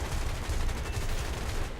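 The 37mm cannon of a P-39K aircraft fires in a combat flight game, a dense burst of rapid, booming shots heard close and loud for about two seconds.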